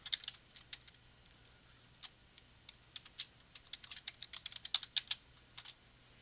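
A computer keyboard clacks in short, irregular bursts of keystrokes while a folder name is typed, close and fairly quiet over a faint background hum.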